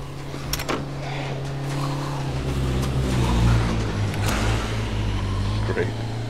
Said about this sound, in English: There's some guy in a Jeep.